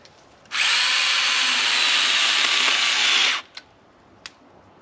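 A STIHL battery-powered garden pruner, a small chainsaw, runs in one loud, steady high-pitched whine for about three seconds while trimming, then stops, followed by two faint clicks.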